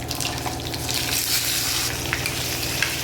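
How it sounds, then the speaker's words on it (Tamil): Boiled jackfruit seeds frying in hot oil, a dense continuous sizzle with crackling pops and faint stirring, close and loud, no voices. "பலாக்கொட்டை எண்ணெயில் போட்டாச்சு அது நல்லா அப்படியே ஃப்ரை பண்ணுங்கள்"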